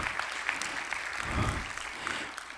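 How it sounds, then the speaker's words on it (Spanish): Congregation applause at a church service after a pastor's sermon, a dense steady patter of clapping lasting a few seconds at moderate distance, with a low rumble swelling briefly in the middle. "Dale fuerte ese aplauso."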